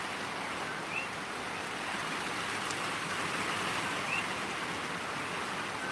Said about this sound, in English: The rain's so loud.